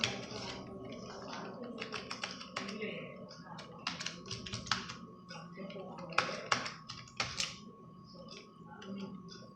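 A computer keyboard is typed on in a quick run of clicky keystrokes, including backspace presses, with scattered taps and short bursts close up while a voice talks in the background.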